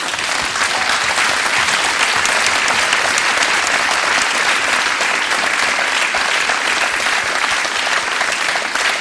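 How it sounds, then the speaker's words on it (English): A church audience breaks into loud, sustained applause, a dense, even wash of many hands clapping that continues strongly throughout, with no speech. "So thank you, David, and I applaud you."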